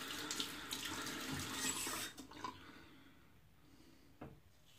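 Water running from a tap, a steady close hiss for about two seconds that then stops, followed by a few faint drips and light clinks.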